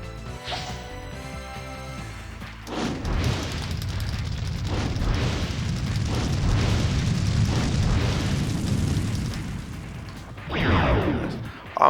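Magma attack bombs explode in Legend of Dragoon, a loud rumbling blast that swells and roils for several seconds, then fades before a sharp final burst near the end.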